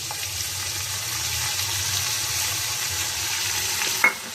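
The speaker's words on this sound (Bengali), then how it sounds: "তারপরে একটু নাড়বো, এটাকে ভাজবো।" Masoor lentils frying in a pan, a continuous close sizzle with soft stirring scrapes throughout and a single sharp clink of the utensil near the end.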